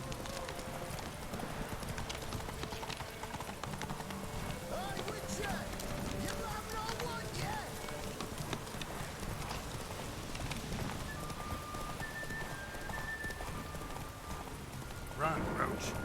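Horse galloping in The Witcher 3, a quiet continuous rhythm of hoofbeats under soft game ambience, with a brief louder thump near the end.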